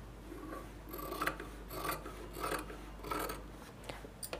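Scissors snipping through fabric around a blouse neckline for maggam embroidery work, a series of close, rasping cuts in an even rhythm with no talking.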